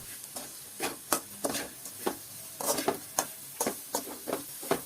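Chopped cabbage is stir-fried in a hot pan for egg fried rice, with a spatula scraping and tossing at an uneven rhythm over a steady sizzle, close up and with no talking.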